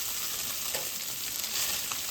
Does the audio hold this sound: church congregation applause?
no